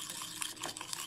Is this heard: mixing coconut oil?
yes